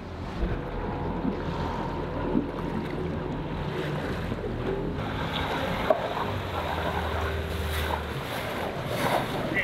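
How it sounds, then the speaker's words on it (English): A small dinghy approaches across open water, its low motor hum steady under gusting wind noise and lapping waves, moderately near, with no talking. "there is a dinghy approaching which looks like our buddy boat"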